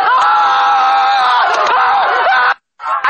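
An impatient crowd shouts and yells together in a dense, loud, continuous roar that cuts off abruptly near the end before resuming briefly.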